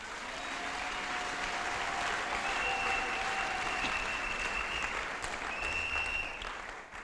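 A church congregation claps in sustained, dense applause for about seven seconds, steady and fairly loud, with faint voices calling out underneath.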